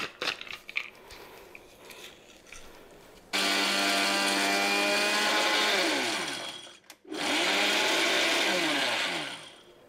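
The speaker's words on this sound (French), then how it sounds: "je le moule dans mon moulin à épices" An electric spice grinder whirs as it grinds pepper for a courgette and pepper relish, starting abruptly after a few seconds of quiet, running loud and steady, briefly stopping, then whirring again to the end.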